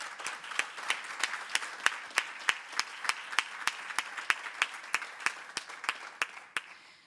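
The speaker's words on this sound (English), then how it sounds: "So let's give him another round of applause." An audience applauds a judge at the 2016 SGA induction ceremony, with one close, sharp clapper keeping a steady beat over a softer spread of clapping from the crowd that eases off at the end.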